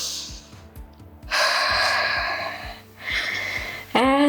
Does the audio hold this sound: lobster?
no